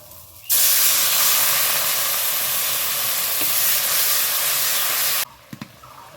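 Water poured into a pan of hot rice fried with spices, for a Bengali banana-flower muri ghonto with sugar and atap rice, bursts into a loud, steady steaming hiss that holds for about five seconds, then cuts off to a few faint clicks.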